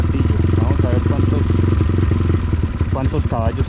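A Honda Dax CT70 motorcycle engine runs loud and close with a steady putter and some rising revs, while someone talks over it.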